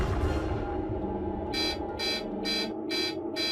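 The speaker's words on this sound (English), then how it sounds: "alarms sounded at the most sensitive scientific devices ever constructed" Laboratory alarm at a highly sensitive scientific detector, a series of five evenly spaced electronic buzzer bursts sounding over a steady background hum.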